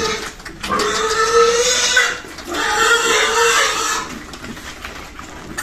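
Five mestizo piglets, a cross of a large native sow and a white boar and bought for lechon, squeal loudly and close by in two long harsh bursts, with a quieter gap between them.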